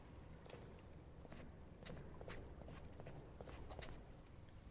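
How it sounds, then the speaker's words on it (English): Footsteps splash through water in the pool rooms of Escape the Backrooms, a steady run of soft, even steps sounding fairly faint and heard alone. "that's the exact same sound Escape the Backrooms makes when you walk through water"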